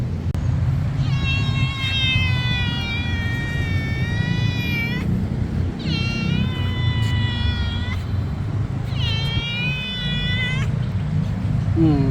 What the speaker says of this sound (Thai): แมวนี่น่าจะถูกกับคนนะครับ ไม่กลัวเลย